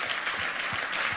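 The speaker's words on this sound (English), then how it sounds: "You probably shouldn't be applauding that" A short burst of audience applause from a crowd at a talk on cybernetics, dense steady clapping filling the whole moment.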